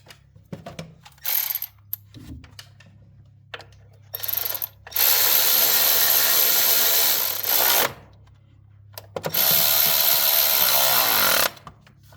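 Small bolts on a Ford F250 being tightened with a ratchet: several bursts of loud, fast metallic clicking, two of them long and sustained, separated by short pauses, with no talking.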